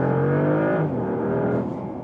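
Porsche Panamera hybrid accelerating hard, a steady, loud engine drone heard from inside the cabin, its pitch shifting slightly as speed builds.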